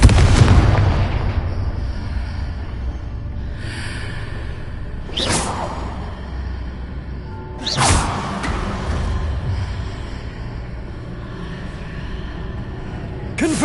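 Confringo fire spell blasts in Hogwarts Legacy on PlayStation 4 Pro: a heavy opening boom, then two more sharp whooshing explosions a few seconds apart, each loud and close over a steady low rumbling game background with no talking.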